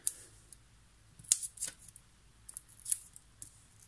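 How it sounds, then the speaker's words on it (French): Scissors snip through a card in a quiet indoor setting, a series of short, crisp cuts in irregular bursts, close and fairly soft. "L'autre, je vais découper."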